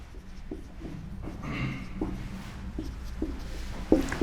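Marker or chalk scratches across a board as a teacher writes notes in a geography lesson, several short separate strokes with small taps between them, close and moderately loud with no talking.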